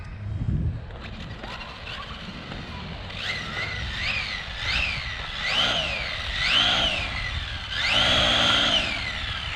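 An Arrma Typhon V5 RC car's electric motor is pushed to full throttle in repeated bursts, a loud rising-and-falling whine that climbs higher and longer with each pass, close by.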